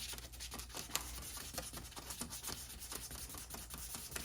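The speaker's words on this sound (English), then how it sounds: "I'm going to try to just sand this portion by hand" Repeated rough scraping strokes of hand sanding a car headlight lens, steady back-and-forth rhythm, close and fairly quiet, with no talking.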